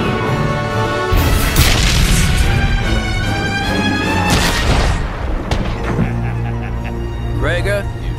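A big gun fires in an animated Star Wars Rebels space battle against TIE fighters, heavy booming blasts and crashes over a dense soundtrack, mixed with voices.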